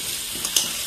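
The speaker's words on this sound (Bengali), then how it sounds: "আলু ভাজা করতেছি।" Potatoes fry in a pan with a brief, steady close sizzle and a couple of small pops.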